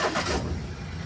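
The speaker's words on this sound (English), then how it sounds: "I'm gonna start this up and take it directly to the gas station" A 1996 Daihatsu Midget 2 one-seater engine starts with a loud, brief burst of noise, then drops into a low, steady rumble.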